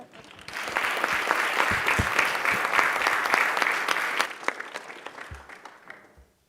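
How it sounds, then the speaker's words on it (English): Members on a state assembly floor applaud together, a full round of clapping that builds quickly, holds steady, then thins into scattered claps and fades out, with no talking over it. "everyone can give her an extra special round of applause"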